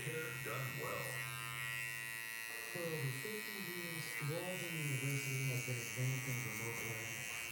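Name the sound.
electric hair clipper with one guard cutting hair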